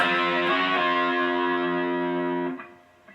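A distorted electric guitar plays a sliding riff, ringing out with sustained, sliding notes for a few seconds, played alone, then fades abruptly near the end.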